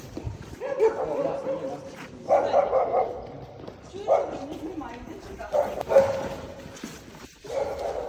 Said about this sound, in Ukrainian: Я вийшла подивитися, на кого собаки гавкають.